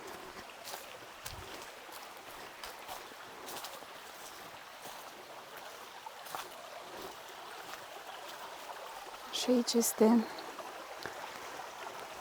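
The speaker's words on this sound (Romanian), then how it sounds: "Părăiașul, care are apă foarte multă, adică are debit destul de bun" A small countryside brook running with plenty of water makes a steady rushing wash in the background. A person talks briefly, and a louder splash-like burst comes near the end.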